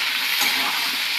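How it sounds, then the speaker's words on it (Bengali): Khichuri mixture frying in a pan with water in it, giving a steady, close, bright sizzle and hiss that holds evenly throughout. "এই যে জলের যে শব্দটা আসছে,"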